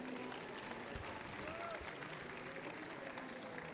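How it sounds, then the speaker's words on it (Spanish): Faint, steady applause from an audience at an education workshop, a distant, even patter of clapping with a few brief tones passing underneath. "Un aplauso para él."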